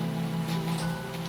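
Steady rain falls in a zombie survival video game, an even close wash of patter over a low constant hum, with no voices.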